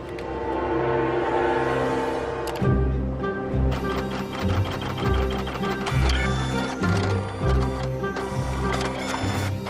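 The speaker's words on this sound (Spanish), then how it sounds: "Una pieza de la impresora ha fallado" An office printer with a failed part runs mechanically, with rhythmic clattering and ticking and repeated thumping strokes over a steady motor whir, loud and continuous with no talk.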